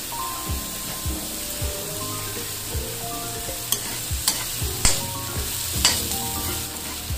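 Ginger and two bay leaves fry in a pan for a coconut-milk gata dish, with steady close sizzling and repeated scraping and clinking of stirring against the pan.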